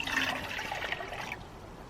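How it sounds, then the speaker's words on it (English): Water pours briefly into a drinking cup with a bright splashing trickle that fades out after about a second. "I like to fill up the cup I'm gonna be drinking out of."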